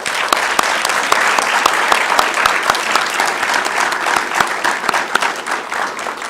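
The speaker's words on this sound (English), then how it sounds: "How about a round of applause?" Dense, steady applause from a school board meeting audience honoring seven semifinalist and commended students, many hands clapping close together at an even volume for the full stretch.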